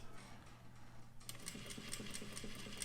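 A sewing machine, run without thread, stitches lines on paper; a faint hum is followed by a steady, rapid mechanical ticking as the needle starts running.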